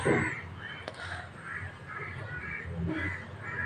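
A crow caws repeatedly in the video game Granny 3, a steady series of harsh calls over a low background hum, with no talking.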